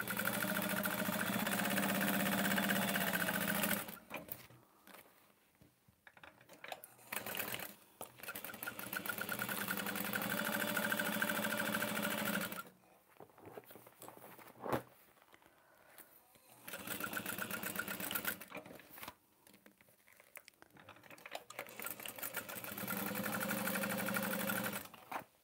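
Sewing machine stitching a test bag with a 3/8 inch seam allowance, running in long steady bursts separated by short pauses, close and fairly loud with a continuous motor hum.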